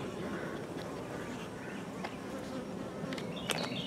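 Bees buzz around a hive entrance in a continuous close droning hum, with individual insects passing by the microphone.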